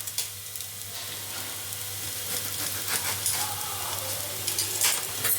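Poha sizzles and fries in a pan while being stirred, a steady close hiss with scraping stir strokes growing busier toward the end, no speech.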